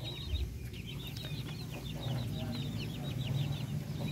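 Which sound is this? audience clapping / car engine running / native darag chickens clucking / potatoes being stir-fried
native darag chickens clucking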